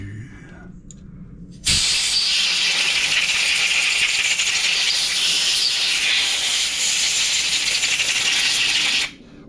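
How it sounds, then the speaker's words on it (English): A carburetor cleaner aerosol can sprays in a long continuous hissing burst of about seven and a half seconds while servicing an MTD Yard Machines push mower carburetor, close and loud, with a slight sputtering rattle as the nearly empty can runs. "My carb spray's about empty."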